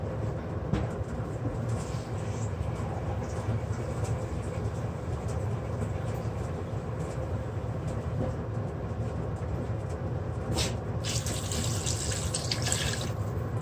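Water runs steadily into a pot while sinigang is being cooked, a continuous rushing pour at moderate level with no pauses, joined by a brighter splashing stream near the end.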